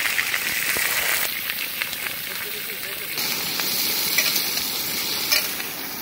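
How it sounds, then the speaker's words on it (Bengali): Cauliflower and potato pieces fry in a pan with a continuous close hiss and crackle and a few stirring scrapes, while someone talks over the cooking. "প্রথমে কিন্তু আমরা কপিটাকে ভেজে নেব, সঙ্গে আলু"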